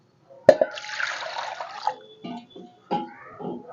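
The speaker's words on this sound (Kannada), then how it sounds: "ಇನ್ನೂ ಸ್ವಲ್ಪ ನೀರು ಹಾಕೋಣ, ತುಂಬ ಗಟ್ಟಿ ಆಯಿತು." Water pours into a cooking pot of avarekalu (field bean) saaru, opening with a sharp splash, then a splashing pour that trails into a few separate drips and trickles, close and fairly quiet.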